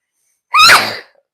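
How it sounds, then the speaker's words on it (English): A single loud, close sneeze, a sharp burst of breath that ends quickly. "I got to sneeze."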